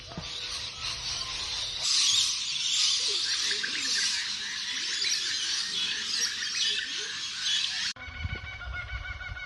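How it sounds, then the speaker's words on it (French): Birds sing and chirp around a campsite on an Australian morning, with repeated calls over a steady background hiss. A brief voice is heard near the end. "on se réveille au bruit des oiseaux"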